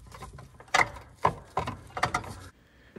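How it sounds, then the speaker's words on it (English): An LED bulb twisted in an adjustable headlight socket on a Subaru WRX STI gives several close, crisp plastic clicks and ratcheting snaps in short bursts, then stops. "As I was turning this bulb down, the adjustable socket was moving"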